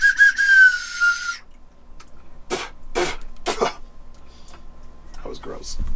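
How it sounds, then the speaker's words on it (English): A handmade ceramic clay whistle blown once in a bright, steady tone that wavers slightly, then falls silent, followed by a few scattered coughs and throat sounds nearby. "This is a clay whistle. I made a bunch of these in my ceramics class."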